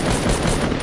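Rapid, dense gunfire from a shooting video game, a continuous loud burst of automatic fire with no pauses across the brief moment.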